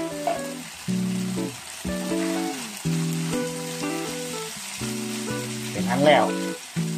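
Frog stomach and holy basil stir-fried in a pan give a soft, steady sizzle under a prominent melodic music track, and a voice speaks a few words briefly.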